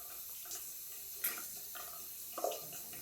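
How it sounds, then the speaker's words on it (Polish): A Thiers Issard straight razor is rinsed under a running tap, giving a faint, steady trickle of water with a couple of brief splashy clinks, and no voices. "Brzytwa zostaje ładnie umyta, zapłukana"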